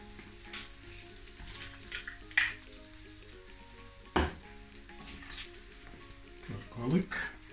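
Onions are added to butter and grapeseed oil in a hot pan and sizzle steadily, with a few sharp clinks and stirring scrapes over the frying and brief sounds of movement nearby.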